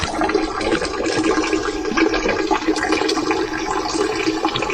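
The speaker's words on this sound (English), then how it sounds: "There's this water fountain right here where you can drink off of." Water running steadily from a public drinking fountain on a street in Naples, Italy, a continuous close splashing flow with no talk over it.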